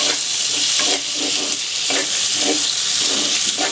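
Tomatoes and onion frying in a clay kadai for kadai paneer, a loud, steady hiss of sizzling with soft rhythmic stirring strokes every half second or so close by.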